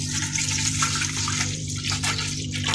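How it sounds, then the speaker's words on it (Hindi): Lassi pours into a pot for kadhi pakora, a continuous liquid splash and trickle over a steady low hum, with no one speaking. "सबसे पहले हम लेंगे लस्सी।"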